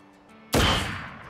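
A single sharp gunshot cracks out in Crisis Core Final Fantasy VII, sudden and loud after near silence, then a decaying rumble tails off over about a second.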